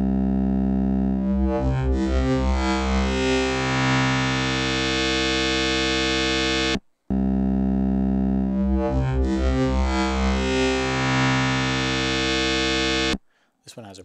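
Two passes of a buzzy Sequential Pro 3 digital wavetable synthesizer tone that opens soft and grows harsh and distorted, each sustained for several seconds before cutting off.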